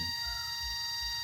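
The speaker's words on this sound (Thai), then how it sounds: "อันนี้เป็นเสียงจักจั่น" Continuous high-pitched buzzing drone from a large cicada two to three times normal size, holding steady tones without pause, moderately loud, with soft low rumbling in the background.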